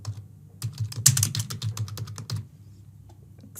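Test credit card details are typed on a computer keyboard in a rapid burst of close, crisp keystrokes, followed by a few isolated taps and near silence.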